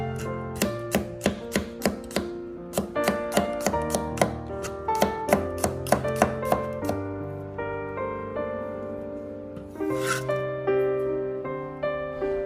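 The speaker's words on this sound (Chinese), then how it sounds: "将大蒜切成薄片" Garlic cloves are sliced thin with a knife, a quick run of crisp regular taps on a board that speeds along for several seconds, then slows, with faint background music tones.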